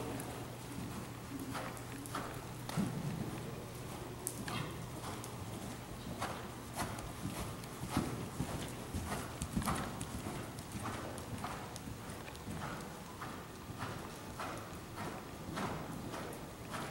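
Horse hooves canter steadily over a jumping grid at a riding clinic, a continuous rhythmic clip-clop moving through the poles at moderate distance, with light background noise throughout.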